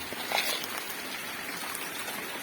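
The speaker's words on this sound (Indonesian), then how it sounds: "Ini kondisi hujan terus-menerus dari kemarin." Steady, continuous rain falls over an outdoor catfish pond covered with shade netting, a dense even hiss of drops with no pauses, moderately close and with nothing else over it.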